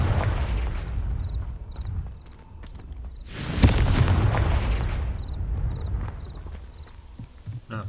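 A Confringo blasting spell goes off in the Hogwarts Legacy video game: one sharp, loud explosive burst midway, set against low rumbling ambience and faint repeating chimes, with no voices.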